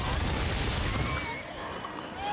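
Dense, rapid gunfire from the survival horror game Dead Space 3 rattles through a chaotic fight, loud and continuous with crashing impacts, easing slightly midway.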